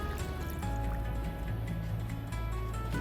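Plain tap water pours steadily into a rock tumbler barrel loaded with chrysoprase rocks, a continuous liquid fill with faint trickles and drips, close and moderately loud with no talking.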